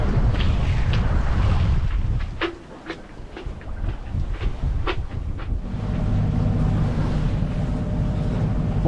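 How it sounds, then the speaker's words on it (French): Sailboat's auxiliary engine running while under sail at sea, a low steady rumble mixed with gusty wind noise on the microphone and occasional creaks and knocks aboard. "on vient d'allumer le moteur parce qu'on marchait à 2 à l'heure, donc on fait voile et moteur"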